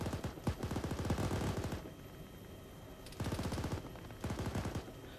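Machine gun fire in Arma during a ShackTac operation, heard as rapid sustained bursts of rattling shots, three separate strings separated by short pauses, fairly loud and close.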